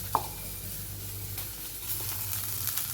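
Fish, frozen beforehand, frying in a pan at home, a soft steady sizzle with a brief clink near the start and low background hum, no voices.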